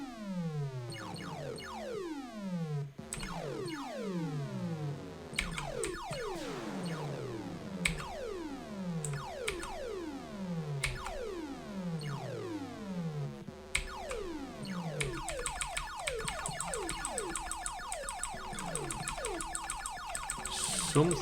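Glitchy synthesized effects from a Commodore 64 remake of the game Myriad: continuous overlapping swooping and falling chirps and zaps, fairly quiet, with a harsher noisy burst near the end and no talking.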